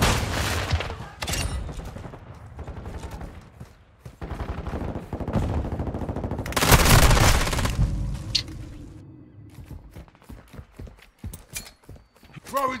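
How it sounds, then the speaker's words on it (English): Rapid gunfire and explosions fill a Call of Duty firefight, dense bursts of shots and booms close and loud throughout, easing toward the end, with occasional voice callouts from the game. "I'm taking effective fire."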